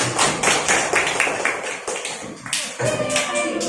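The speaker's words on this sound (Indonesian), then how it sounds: "tepuk tangan untuk kelompok 5" A class gives a short burst of applause for a group presenting in a school lesson, the dense, close clapping lasting several seconds with a teacher's voice briefly over it.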